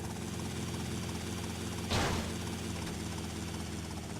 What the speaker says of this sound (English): that is not how you park a chopper.